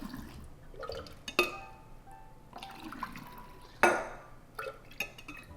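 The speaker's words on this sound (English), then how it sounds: "you just use a ladle and start ladling it into your jars" Kombucha ladled into jars gives soft liquid pours and trickles, with a few sharp clinks of the ladle against glass, close and fairly quiet, in a few separate bursts.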